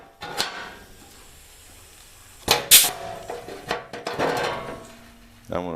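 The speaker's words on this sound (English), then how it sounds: "it's sort of a metal paper punch" Hand punch tool pressing holes into sheet metal on a Chevy Astro van during radiator support rust repair, a few sharp metallic snaps and clunks spaced irregularly, close by, with quiet gaps between.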